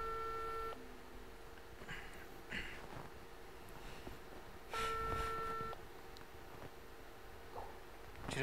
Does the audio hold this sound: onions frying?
no